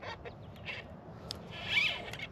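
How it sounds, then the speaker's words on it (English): A bird calls outdoors near water during bass fishing, with several short honking cries and a louder, drawn-out call near the end, all fairly faint against a quiet background. "Oh, look at that bird."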